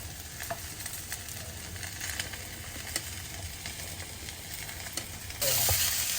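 Ivy gourd and onions sizzle steadily in a hot pan for Andhra-style vepudu, with scattered stirring clicks and a louder burst of frying toward the end; no voices.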